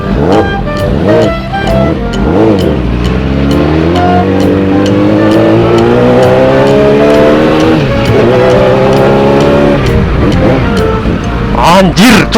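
A Yamaha R6 superbike engine revs hard on a test ride, loud and close, with high-pitched rising and falling surges through the gears, and voices talk over it at times.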